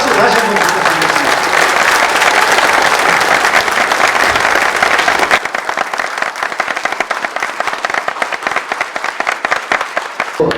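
Loud, continuous audience applause fills a forum lecture hall, dense clapping throughout that thins slightly toward the end while staying sustained.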